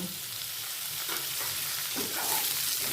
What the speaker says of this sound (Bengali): এবার পুরো উপকরণগুলো সব একসাথে মিডিয়াম ফ্লেমে তিন থেকে চার মিনিট ভেজে নেব